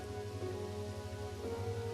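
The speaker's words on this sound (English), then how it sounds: "Rain." Steady rain falls in an even, continuous wash, close and unbroken, with no voices.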